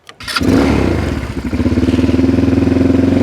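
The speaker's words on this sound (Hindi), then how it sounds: "अब ऑन करने के लिए आपको यहाँ से बस सेल्फ दबा के, ये है आपका, ये सेल्फ है, ब्रेक दबा के" An ATV quad bike is electric-started with its self-starter: a brief starter whir, then the engine catches and settles into a loud, steady, pulsing idle close by, with no talking.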